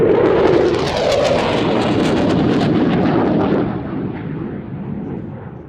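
A specially marked RAF Eurofighter Typhoon of 29 Squadron roars past at an air festival, a loud, thundering jet blast that dominates for a few seconds before easing into a fading rumble.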